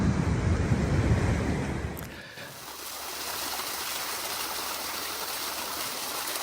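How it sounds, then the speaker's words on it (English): Water wells up through a tree trunk like a natural spring, a steady rushing wash heard close and loud at first, then after a brief dip it settles into a softer, even flow. "I think that's like a water coming up through the tree trunk. Not something that happens every day. Kind of like a natural well"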